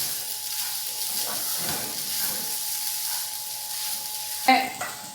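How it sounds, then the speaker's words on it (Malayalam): Beaten rice, grated coconut and jaggery sautéing together in a pan, a steady close sizzle with light stirring, ending in a sharp clink of a spoon against the pan. "ഇനി തേങ്ങയിട്ട് നന്നായിട്ട് നമുക്കൊന്ന് ഇതൊന്ന് മിക്സ് ചെയ്ത് നന്നായിട്ടൊന്ന് വഴറ്റിയെടുക്കാം."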